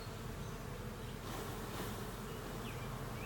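A dense, continuous buzz of many honey bees being shaken off a hive frame fills the clip, loud and close, swelling slightly in the middle.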